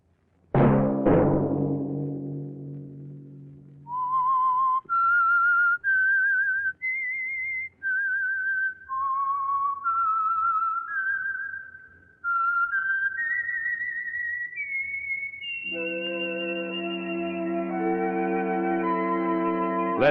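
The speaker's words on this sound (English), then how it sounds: "Let that whistle be your signal for the Signal Oil program, The Whistler" A melodic whistled signal tune for the Signal Oil radio program The Whistler, a lone human whistle rising and falling through distinct held notes, followed by a sustained orchestral chord, loud and close.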